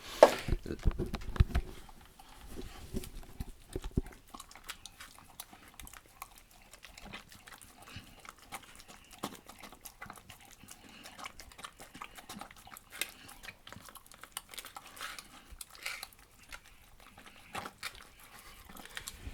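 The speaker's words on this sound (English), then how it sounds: "the noise that I have to listen to every time my dog has his food" A bull terrier chews and crunches its food in quick, wet, irregular bites, loudest at the start and then steadier and quieter, with no talking.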